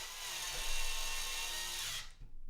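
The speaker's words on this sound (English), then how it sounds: "I just realized I didn't even screw in all the fan screws." Power screwdriver driving fan screws into a used Ryzen and RX 580 gaming PC case, a steady high-pitched whirring drill buzz running close and loud for about two seconds before cutting off.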